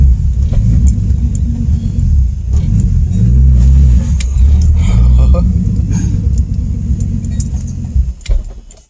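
A BMW E46 driving just after a stage 4 clutch install, its engine rumbling loud and close in a steady low drone with brief swells of acceleration and light rattles throughout.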